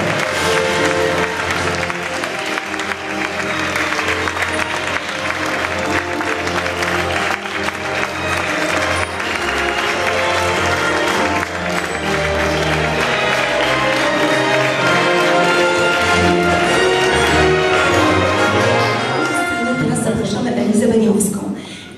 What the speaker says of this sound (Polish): Dla niej również proszę o brawo.